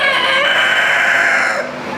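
Chickens cluck and a rooster crows loudly in a poultry barn at a county fair in Owatonna, Minnesota, a close, sustained crowing call over clucking that eases off near the end.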